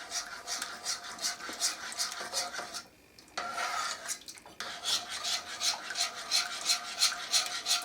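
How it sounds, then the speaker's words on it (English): A spoon stirring honey in a pan while making orange and lemon marmalade, a steady rhythmic scraping and rubbing that pauses briefly midway and then resumes, close and moderately loud with no talking. "So I'll just stir that until the honey has melted."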